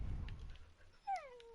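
A pet dog in Minecraft lets out a single short whimper, a thin whining tone that slides downward near the end, fairly quiet and alone after a brief low rumble.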